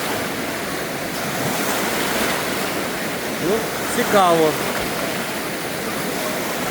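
Artificial waves churn through a thermal wave pool at a Hungarian spa complex, a steady broad wash of surging water with crowd bustle, as a person speaks briefly over it.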